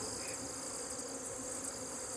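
Honey bees swarm around an opened hive, their buzzing a dense, even drone that hums continuously close by and covers everything, with no talk.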